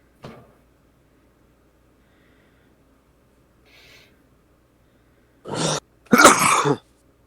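A short burst, a long quiet stretch with a faint rustle, then a loud two-part sneeze close to the microphone.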